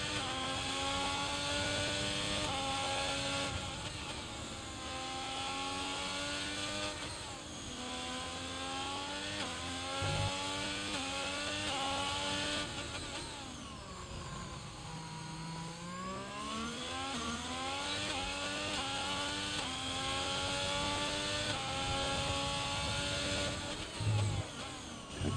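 F1 2022 race car engine on a hot lap around Singapore, a loud, steady high-revving whine that rises and falls continuously through gear changes and braking zones.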